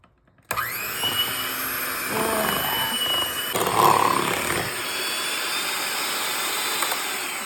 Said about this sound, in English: I'm gonna go ahead and grab my hand mixer and give this a nice blend